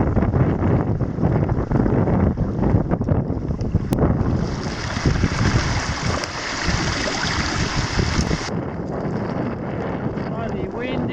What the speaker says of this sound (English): Bloody windy and bloody wet.